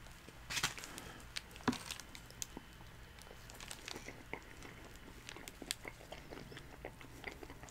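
Someone eats a Taco Bell Big Cheez-It Tostada up close, with crunchy bites, chewing and wrapper crinkles coming at irregular intervals, a couple of louder crunches standing out early on.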